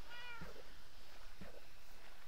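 A cat in a video game meows twice, about a second apart: short, clear mewing calls over a quiet background with no talking.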